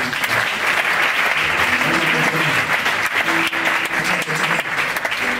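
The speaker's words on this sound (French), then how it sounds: "Acclame, acclame, acclame." A church congregation applauding and cheering during a sermon, dense sustained clapping mixed with shouts, loud and filling the room throughout.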